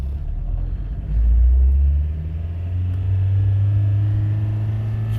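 An old car engine runs on an open road through first and second gear with little throttle, a loud, steady low rumble that swells in the first seconds and then holds even with no talk.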